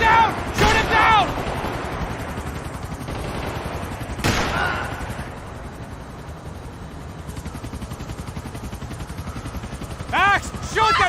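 Gunfire in Max Payne 3 aimed at a helicopter, with sharp bursts near the start and again around the middle and end over a steady rumbling engine drone, and voices shouting at the edges.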